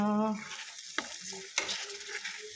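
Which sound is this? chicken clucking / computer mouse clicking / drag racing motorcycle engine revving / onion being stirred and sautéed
onion being stirred and sautéed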